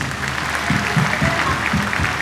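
A church congregation claps together, dense overlapping applause that holds steady and close for a couple of seconds.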